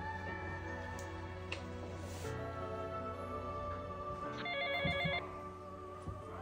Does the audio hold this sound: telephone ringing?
yes